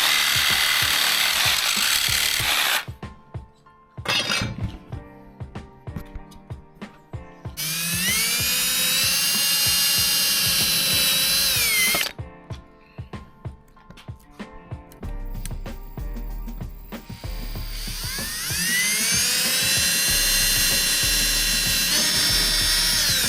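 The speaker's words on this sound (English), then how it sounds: "Drill the rail." A power drill bores through a curtain rail in a VW Caddy camper van, loud whining bursts with rising pitch, separated by short pauses.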